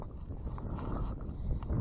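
Wind buffets a microphone out on open winter water while bass fishing, a faint, steady low rumble with soft gusts and no voices.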